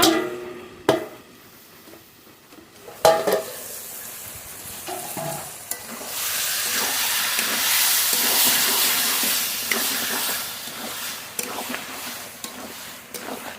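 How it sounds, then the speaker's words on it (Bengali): Country duck meat cooked with spices is stirred in a covered pot. A few knocks as the lid comes off open into a long, steady sizzle and hiss of frying, with occasional scraping as the meat is turned. "ঢাকনা তুলে মাংস নেড়ে নেব।"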